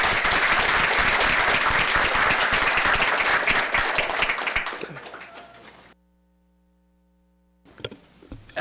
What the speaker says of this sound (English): So please give a round of applause for Victoria.